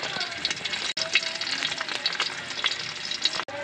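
Dried fish, daing and tuyo, sizzling and crackling steadily in hot oil in a wok, with continuous close frying hiss and occasional stirring; a brief pause breaks it twice.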